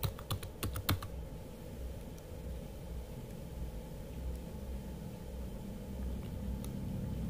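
A short burst of quick, close keyboard clicks typing a command in Packet Tracer opens the clip, then only a steady low background hum continues, with a stray faint click later.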